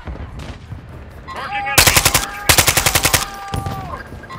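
Rapid automatic gunfire in Call of Duty: Modern Warfare II, two loud sustained bursts of repeated shots with quieter scattered shots around them and a faint voice in the background.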